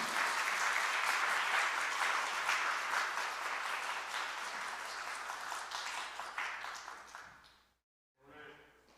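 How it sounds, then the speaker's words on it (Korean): Church congregation applauding at the close of a teachers' college lecture, steady dense clapping for about seven seconds that thins out and stops briefly, then resumes faintly. "우리 박수로 마치도록 하겠습니다."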